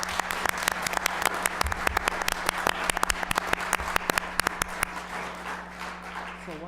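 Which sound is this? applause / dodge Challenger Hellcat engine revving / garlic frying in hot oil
applause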